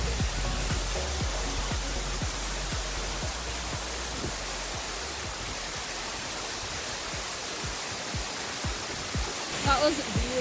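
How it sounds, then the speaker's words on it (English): Margaret Falls waterfall in Herald Provincial Park, British Columbia, roaring as a loud, steady broadband rush up close, with footsteps and brief movement noises over it. "That's a nice waterfall."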